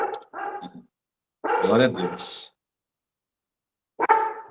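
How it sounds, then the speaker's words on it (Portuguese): A small dog yips and barks in short bursts indoors during a spoken ministry-school lesson, the sharp barks mixed between stretches of someone talking. "tem um cachorrinho latindo aqui"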